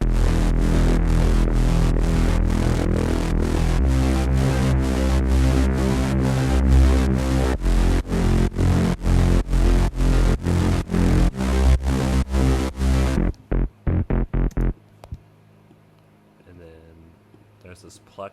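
A pulsing synth bass sequence made with a Serum preset, for a pop production in Logic Pro X, plays in a steady, chopped rhythm, loud and full, then thins to a few sparse stabs before fading out.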